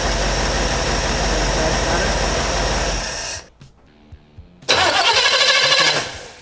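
A car engine running a CDI box on a points distributor sounds steady, then cranks briefly and fires, catching with a loud burst before settling. A voice is heard in the background.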